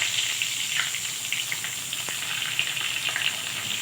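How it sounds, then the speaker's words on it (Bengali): Chopped onion fries in hot oil with a steady, close sizzle and faint crackles, accompanied by occasional light stirring, with no talking. "কুচনো পেঁয়াজটা একটু ভাজা হোক"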